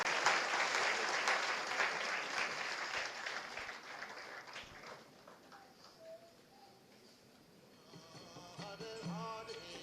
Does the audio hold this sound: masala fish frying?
no